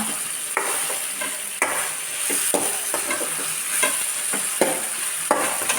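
Garam masala spices are dry-fried in a pan for chicken sukka, a constant close sizzle and rustle punctuated by regular scraping strokes of a stirring spoon, with no voices.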